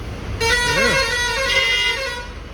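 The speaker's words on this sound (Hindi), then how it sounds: "पीछे बज रहा है बढ़िया हॉर्न" A loud, sustained vehicle horn blares for about two seconds from behind a car on a highway at night amid road noise, with a brief voice heard under it.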